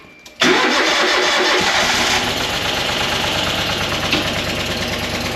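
Heavy machinery diesel engines start up one after another, a sudden loud crank catching into a steady rumbling idle that runs on without talk.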